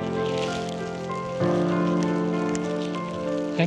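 Continuous rain patters under a grey sky near Lake Wanaka in New Zealand, an even wash of drops over a steady low hum that thickens briefly near the middle and end.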